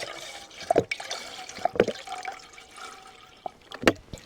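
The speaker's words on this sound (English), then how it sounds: "200 millilitres of water we'll put in straight away." 200 millilitres of water sloshes and trickles into a hiking stove pot in short bursts, with a few clinks and splashes close by, quiet between pours.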